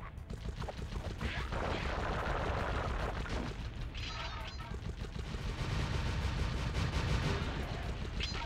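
A small spinning gun scooter fires in the Sly Cooper video game, a dense continuous barrage of rapid gunshots and booming blasts that stays loud throughout.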